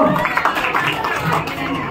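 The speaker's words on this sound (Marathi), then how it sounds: "जोरदार टाळ्या." Loud, enthusiastic applause and cheering from a crowd at a child's first birthday celebration, with clapping blended into chatter and voices throughout the short burst.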